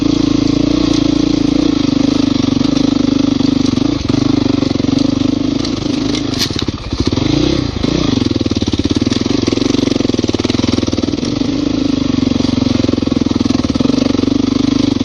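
Dirt bike engine accelerating up a steep hill trail: a loud, close, continuous motor roar with a brief dip and rev change around the middle, then a steady drone to the end.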